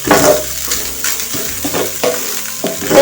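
A samosa filling seasoned with spices and Royco cubes sizzles in a pan while a utensil stirs it, scraping strokes recurring every half second or so over a steady frying hiss.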